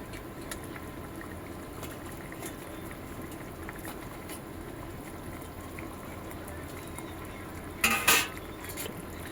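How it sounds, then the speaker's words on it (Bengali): A pot of mustard fish gravy bubbles quietly at a low simmer, then a short clatter and splash near the end as fish pieces go in. No one speaks. "ঝোল ফুটে গেছে, এবার মাছগুলো দিয়ে দেব"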